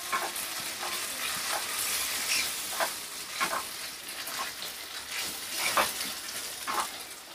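Whole boiled mung beans roasting in ghee for a Gujarati sheero, a soft continuous sizzle with scraping and pressing strokes of a spoon at irregular intervals, close and fairly quiet, no voices.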